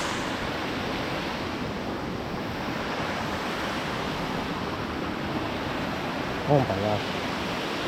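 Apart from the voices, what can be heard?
small waterfall at Lake MacBride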